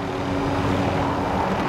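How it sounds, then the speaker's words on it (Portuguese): A helicopter in Call of Duty Warzone gives a loud, steady rotor and engine drone that fills the whole span without any pause. "Ali atrás, um helicóptero, um helicóptero."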